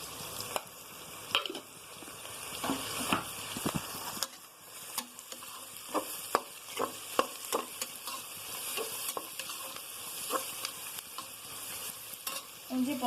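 Onions sizzle in hot oil with a little salt in a home kitchen pan, a steady crackling fry broken by frequent scraping, clinking strokes of a spoon stirring, close and fairly quiet, no voices.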